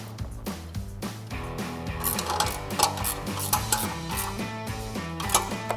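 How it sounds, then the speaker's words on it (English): A 13mm ratcheting wrench tightens a bolt on the bracket of a RedRock TCX HD front bumper on a 2016-2018 Silverado 1500, giving rapid, close, repeated ratchet clicks in steady bursts with light metallic rattles, and no talking. "Grab our 13mm ratcheting wrench, tighten this down."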